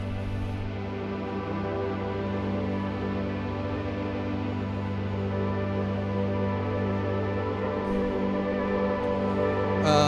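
A dense, sustained synth pad run through Monitr, UniFX and Xchangr effects modules, with steady layered harmonics, drones on for the whole stretch, lightly shimmering and swelling slightly near the end, with no voices.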